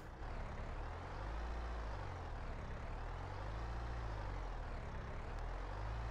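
Ford 10 Series III tractor engine in Farming Simulator 22, a deep steady diesel drone with slowly wavering rumbling harmonics, continuous and fairly quiet, no talking.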